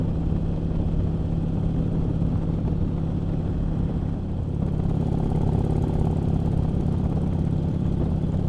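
A motorcycle rides along a road in chilly Quebec weather, its engine a steady, continuous mid-pitched drone with wind rush, holding level throughout and rising slightly in the second half, with no talking.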